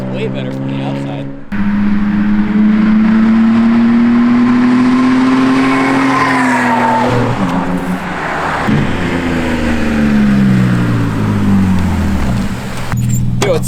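A BMW E46 fitted with a Canadian catback exhaust revs loudly outside, its engine note climbing and falling in repeated sweeps over about twelve seconds, with people talking excitedly over it.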